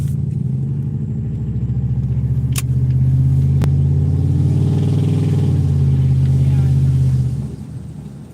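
A pickup truck drives along with a loud, steady engine rumble that swells slightly as it pulls, then eases off near the end. Two sharp knocks cut through the rumble, and no one speaks.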